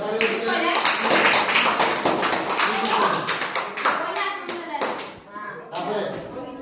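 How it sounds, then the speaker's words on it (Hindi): An audience at a quiz competition bursts into loud, dense hand clapping that holds for several seconds and then thins out into scattered claps, with a few voices mixed in. "जोरदार ताली बजाओ"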